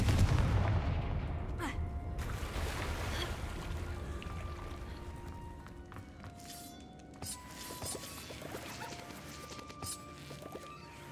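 Several booming blasts and crashes from the Confringo fire spell in Hogwarts Legacy, loud at first and then scattered amid game ambience and effects.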